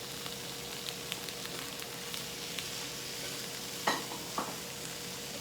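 Stir fry rice sizzles steadily in a frying pan as tomato goes in, with a couple of soft clinks and stirring sounds over the constant hiss of frying.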